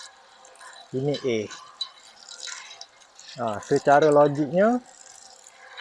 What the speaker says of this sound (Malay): Okey, ni kita siram air, kita tengok.